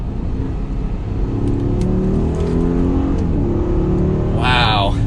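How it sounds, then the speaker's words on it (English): A 2021 Mercedes-Benz GLS 580's 4-liter bi-turbo V8 pulls hard in second gear, a loud, steady engine drone rising in pitch with a quick upshift near the end, heard from inside the cabin. "That 4-liter bi-turbo V8 engine just wants to keep going."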